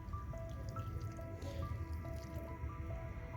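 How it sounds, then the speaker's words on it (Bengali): Water poured onto a freshly repotted petunia in a pot, a soft close trickle with small drips and a faint wet squish, quiet and continuous. "গাছে অবশ্যই একটু জল দিয়ে দেবেন"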